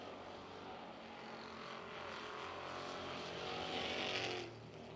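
Crown Vic race cars roar around Carolina Speedway, their engines swelling louder as the pack approaches, then dropping off sharply near the end.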